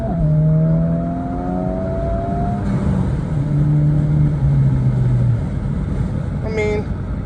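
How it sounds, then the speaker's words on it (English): A Honda Civic Type R FL5 accelerates hard in second gear with traction control off, its close, loud engine note climbing steadily before easing near the top of the pull. "right now we're gonna do like a second gear pull"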